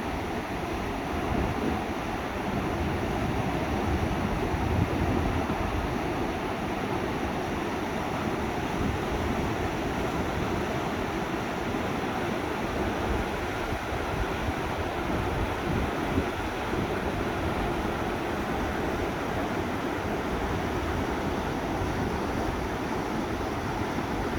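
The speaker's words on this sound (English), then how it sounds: "So if you like the sound of running water, I'm going to let this play." Rough water rushes and churns outdoors on a morning hike, a constant dense roar with wind noise mixed in, steady and unbroken for the whole stretch and with nobody talking.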